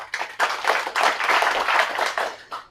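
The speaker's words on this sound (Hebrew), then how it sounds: "מחיאות כפיים" An audience at a tech meetup claps in a short burst of applause, dense and fairly close, swelling after a brief start and tapering off.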